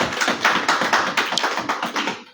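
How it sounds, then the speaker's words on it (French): Close, loud audience clapping for a speaker at a social event, a brisk stream of overlapping hand claps lasting a couple of seconds and then stopping abruptly. "On va l'applaudir déjà très fort."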